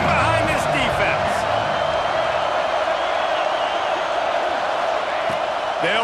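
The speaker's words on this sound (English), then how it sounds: "this crowd is getting behind this defense" A football stadium crowd roars in support of the defense during a Penn State versus Ohio State game, a dense, sustained wash of cheering that holds steady throughout, with someone talking over it.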